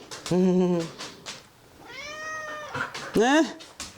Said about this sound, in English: I gotta show Ted this big cat